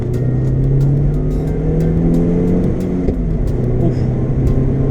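Vauxhall Astra accelerating hard with wheel spin, a loud steady engine drone with a rising tone held close throughout, with faint ticking clicks above.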